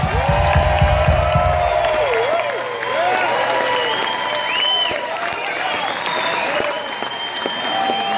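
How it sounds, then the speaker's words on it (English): Applause and cheering from a concert crowd after a rock performance, dense clapping and whistles filling the whole stretch, loud and sustained, with a voice speaking over the start. "How about a nice round of applause for all these fellas up here tonight playing their heart out?"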